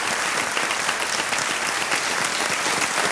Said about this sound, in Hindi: ताली बज जाए सब इनके लिए।